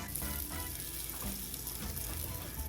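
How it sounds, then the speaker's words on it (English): A bread sandwich for a Cuban croqueta preparada toasting in a panini press, giving a steady, close, even sizzle and crackle that runs without pause and with no talking. "That was exactly the sound you want to hear when you're toasting your bread."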